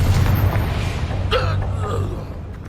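A Confringo spell explosion in the Hogwarts Legacy video game bursts with a booming whoosh partway through, loud over a low rumbling battle background that fades toward the end.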